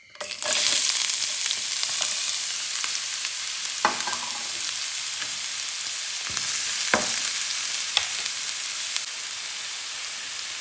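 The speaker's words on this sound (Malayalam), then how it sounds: "ഇത് ഒരു നുള്ളിൽ ഉപ്പിട്ട് കൊടുത്തിട്ട് ഒന്ന് വഴറ്റിയെടുക്കാം." Onion mixture for a Kerala-style spicy egg omelette sizzles steadily in a hot pan, a continuous frying hiss broken by a few sharp stirring scrapes and clicks of a spoon against the pan.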